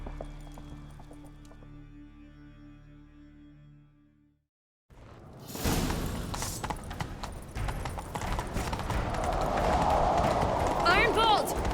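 In The Witcher 3, after some music fades out, rapid hoofbeats of a galloping horse clatter in a steady rhythm, growing louder, with voices talking over them.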